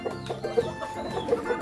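Rhode Island Red chickens in a coop, with close, moderately loud clucks and short throaty calls overlapping in an uneven chatter from several birds.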